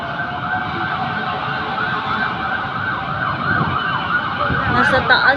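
A wailing fire truck siren rises and falls steadily throughout, fairly loud and continuous, with faint traffic rumble beneath and no clear talk, heard from a 30th-floor penthouse.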